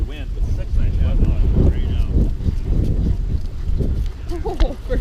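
Gusty wind buffets the microphone at an outdoor dog park, a loud rumbling roar under people talking nearby.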